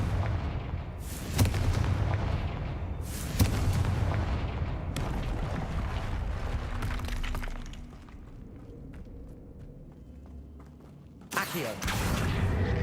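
A Confringo fire spell blasts in Hogwarts Legacy, loud crackling bursts striking around 1.3, 3.3 and 11.5 seconds over a dense rumbling game soundscape, with sustained crackle and debris between the hits.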